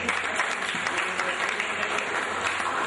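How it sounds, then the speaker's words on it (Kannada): Applause for honoured guests at a ceremony, a dense continuous clapping from a crowd, fairly loud and steady for a few seconds. "ಅವರಿಗೆಲ್ಲ ನಾವು ಚಪ್ಪಾಳೆ ತಟ್ಟೆ ಸ್ವಾಗತ ಮಾಡಬೇಕು"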